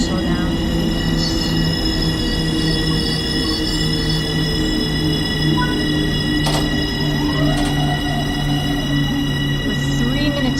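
A Long Island Rail Road train rumbles steadily as it approaches a platform on the Hicksville to New York Penn line in Train Sim World 3, with a constant engine hum and occasional brake squeals.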